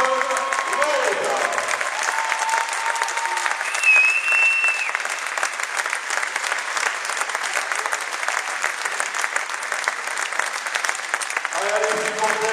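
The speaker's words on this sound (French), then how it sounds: "Je vous demande de vous lever et de faire une immense ovation à Élie Lopez-Rose" Long standing ovation for an athlete at a women's sports event: dense, steady applause from a large crowd with faint whistles, continuing evenly throughout while a voice briefly talks over it near the start and end.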